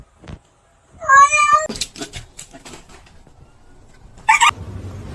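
A pet cat named Izzy lets out a loud, wavering meow up close, followed by scuffling and thumps and then a second short, sharp cry.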